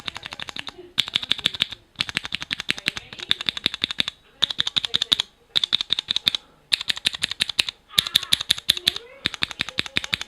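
Cherry MX mechanical keyboard switches fitted with O-rings, typed in fast bursts of crisp, close clicks and clacks separated by brief pauses.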